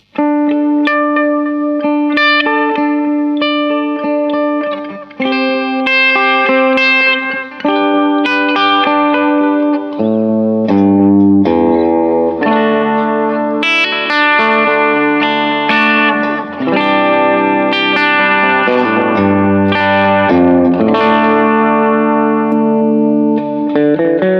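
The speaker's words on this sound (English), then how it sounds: "it's just got a really nice kind of slightly chimey delay kind of sound" Electric guitar played through a compact DIY pedalboard with a slightly chimey delay, bright sustained chords and single notes ringing with echoing repeats, loud and alone throughout.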